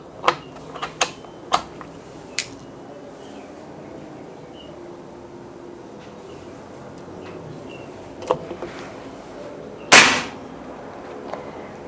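Several sharp, isolated shots from a Mauser PCP air rifle at irregular intervals, with one much louder crack near the end, over a quiet outdoor background.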